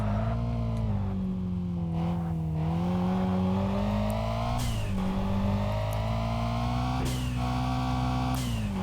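Car engine in the Kaido Racer video game climbing a hill, a continuous droning rev that swells and dips with throttle and shifts, close and steady with no voices.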